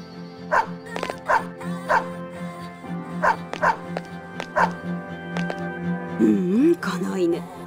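A dog in Persona 3 FES barks in short, sharp yips spaced every half second or so, with whimpering whines toward the end over a steady game music bed.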